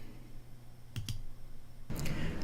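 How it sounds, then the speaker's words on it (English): A quick double mouse click, then a single click about a second later, each short and sharp over a faint steady computer hum. "I am going to click Verify"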